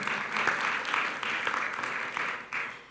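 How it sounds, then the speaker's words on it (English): A conference audience at an international quality tourism event applauds a panel, steady rolling clapping from a large room throughout, with a brief swell near the end. "please give a round of applause for not only our panelists up on stage"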